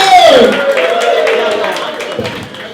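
Audience applause at a stand-up comedy show, loud at first and then fading into a steady patter of clapping with some cheering, no voices over it.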